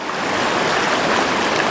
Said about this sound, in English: Here's the creek crossing from the little Cascade.